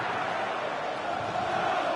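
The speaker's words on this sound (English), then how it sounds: "The crowd encouraging him to take it on." Stadium crowd noise in the FC24 football video game during an Arsenal match, a steady, even roar of cheering fans filling the background.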